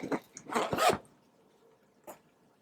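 Zipper on a ZEGUR suit travel bag, heard as a few quick, close raspy zipping strokes, then a pause and one brief final pull.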